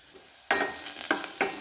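Carrots, beans, spring onion and peas frying in ghee for a vegetable soup, bursting into close sizzling after a brief quiet moment, with a few stirring scrapes through the crackle.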